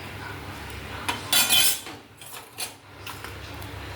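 Fried pea-lentil fritters are lifted out of the pan, with soft metal scrapes and clinks of a slotted spoon against the pan and a faint bubbling of oil beneath.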